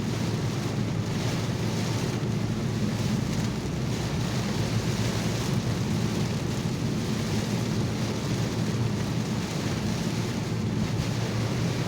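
Steady rain and road noise inside a car driving home in a storm, with low rumbling that fits distant thunder, a constant loud wash throughout.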